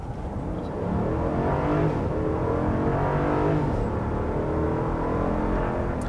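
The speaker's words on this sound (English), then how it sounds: "There's an interesting noise when it shifts, almost like a whoosh noise, like a turbo" A 2022 Jeep Grand Wagoneer SUV engine revs up under acceleration with a rising, then falling whine as it shifts gears, a steady loud drive with a brief turbo-like whoosh.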